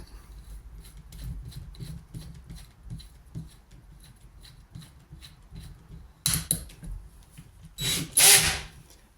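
A small electric drill with a 2mm bit bores through a model railway baseboard in two loud bursts near the end, preceded by quieter rubbing and tapping sounds close by.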